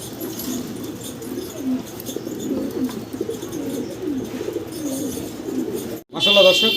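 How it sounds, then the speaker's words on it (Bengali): Fancy pigeons kept for sale coo steadily and close up, a layered low warbling chorus that runs almost the whole time before a brief drop-out near the end. "পাচ্ছেন নুরাল লার্ক দেখেন অসাধারণ সুন্দর কবুতর"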